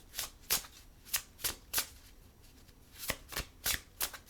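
Quiet bursts of a card deck being shuffled for a card reading, about a dozen quick riffles in irregular bunches with short pauses between, close and soft.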